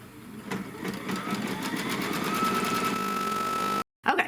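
An embroidery sewing machine stitches a placement line for batting on a mug rug, a fast, steady mechanical whir with rapid rhythmic needle pulses and a rising motor whine before it abruptly stops, then a short clunk.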